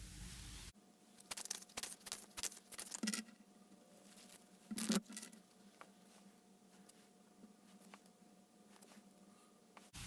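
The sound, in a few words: tarot cards being shuffled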